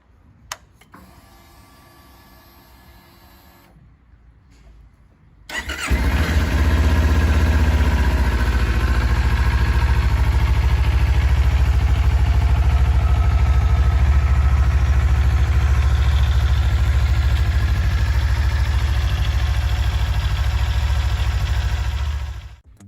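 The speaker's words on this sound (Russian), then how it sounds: "Сердцем Kawasaki Ninja 400, как и в случае с Honda CBR 400R, является рядный двухцилиндровый двигатель жидкостного охлаждения" Kawasaki Ninja 400 motorcycle with a liquid-cooled parallel-twin engine, quiet at first, then starting and settling into a loud, steady idle close by that runs until it is cut off at the end.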